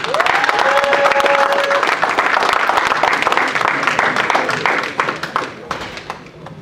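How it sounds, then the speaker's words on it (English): A conference audience gives a round of applause welcoming a keynote speaker to the stage, dense and steady crowd clapping, loud and close, tapering slightly toward the end with a brief voice heard early on. "Kindly give him a round of applause and welcome him to the stage"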